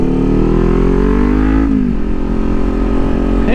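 A 650 motorcycle sweeps past loud and close, its engine note rising and then dropping as it goes by, with a second engine rising faintly at the end.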